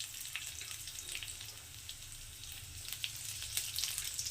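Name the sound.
cumin and dried chilli sizzling in hot oil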